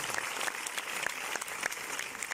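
An audience in a cinema hall applauds a film producer at a premiere screening, dense continuous clapping with a few sharper individual claps standing out, fairly loud and close.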